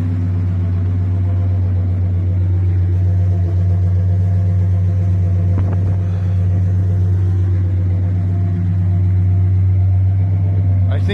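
A 1966 Plymouth Belvedere II engine runs steadily at idle, a loud, close, continuous low rumble that holds even throughout, with a few faint clicks and knocks in the background.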